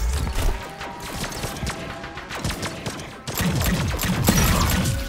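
Rapid bursts of gunfire in the sci-fi shooter video game High on Life, dense and loud throughout, with sharp repeated cracks layered over game noise and a heavier volley in the final seconds.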